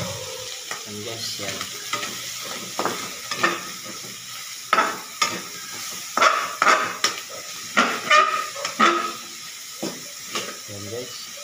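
String beans for adobong sitaw frying and being stirred in a pan, with steady sizzling, repeated stirring scrapes and clatters of a utensil against the pan, while a voice talks over it.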